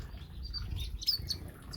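Small aviary birds, mostly silverbills with a weaver finch and a Sudan golden sparrow, give a few faint, high, scattered chirps over a low background hum.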